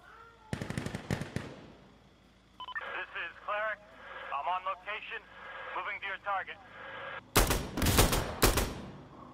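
Gunfire in the game Insurgency Sandstorm cracks out in two sharp rapid bursts at the start and end, with people talking over radio-like chatter in between.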